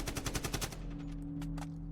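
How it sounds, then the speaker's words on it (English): Rapid bursts of automatic gunfire in a visual novel game crack out in a fast rhythmic string, then give way to a few scattered, more distant shots over a low steady drone. "More gunfire."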